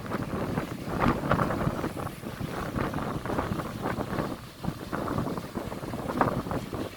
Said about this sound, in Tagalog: Grabe kakusog ang hangin.